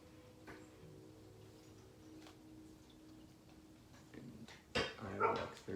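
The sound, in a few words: dog barking in the video game Zelda: Ocarina of Time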